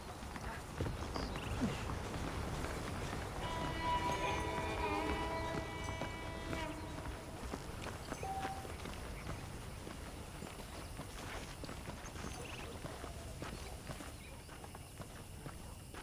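Horse hooves clip-clop at a steady walking rhythm in Red Dead Redemption, continuous and moderately close over ambient outdoor background.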